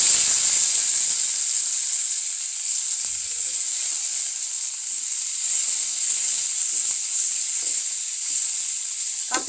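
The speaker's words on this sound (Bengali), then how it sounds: "আমার তেল তো গরম আছে। এখন আমি দিয়ে দিচ্ছি পেঁয়াজ কুচি।" Chopped onion hits hot oil in a wok and sizzles loudly and steadily, a dense close hiss that holds without a break, with a few faint stirring knocks underneath.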